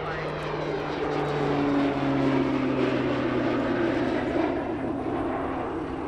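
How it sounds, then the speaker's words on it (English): A Royal Air Force Short Tucano T1 turboprop trainer takes off during an air show display at Linton-on-Ouse, giving a loud, steady, droning engine roar that swells slightly midway and holds throughout. "Taking off now, the display debut of the resurrected Royal Air Force short Tucano T1 solo display of 72 Squadron at Linton-on-Ouse."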